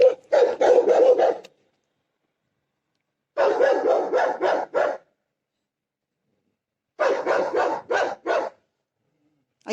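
Dogs barking on an outdoor walk at night: three separate bursts of rapid, loud barking, each lasting one to two seconds, with silence between them.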